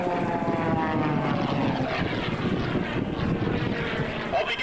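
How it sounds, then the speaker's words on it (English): A 330-horsepower H54 propeller aerobatic plane climbing straight up at a county airshow, a continuous buzzing propeller-engine drone with a rising and falling pitch, fairly close and steady. "The H54, he has 330 horsepower, just keeps on climbing straight to the heavens."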